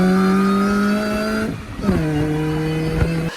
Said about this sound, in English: The supercharger has a crazy whine.